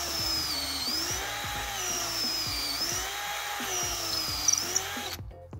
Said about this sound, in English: So simply get your drill bit, get your drill.